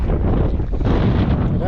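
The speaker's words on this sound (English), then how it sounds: "It's pretty windy here today." Strong wind buffets the microphone on a motocross track, a loud, continuous low rumble with no break.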